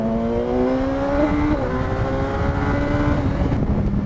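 A BMW S 1000 XR sport-touring motorcycle engine revs and pulls while riding, a loud, close, continuous drone with rising and shifting tones over rushing wind noise.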